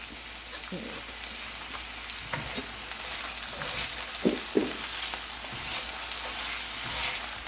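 Purple onions and peppers fry in a pan with a steady broadband sizzle, punctuated by a few sharper clinks and scrapes of stirring, close and moderately loud with no talking.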